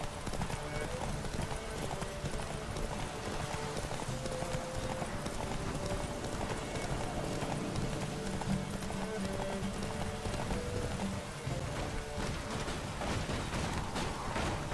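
Roach, a horse in the video game Witcher 3, gallops with rapid, continuous hoofbeats over loud busy game noise for the full stretch.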